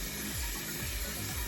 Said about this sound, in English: I'm gonna go ahead and just add some hot water